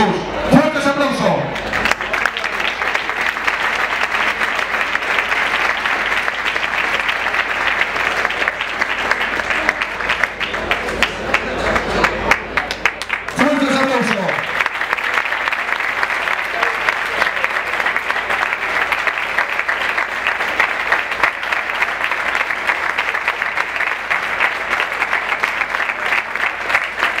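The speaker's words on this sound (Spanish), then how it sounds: "¡Fuerte ese aplauso!" Long, strong audience applause at a tribute to María Jesús Rosa, continuous and full-bodied, with a brief tonal swell near the start and another midway as the clapping carries on.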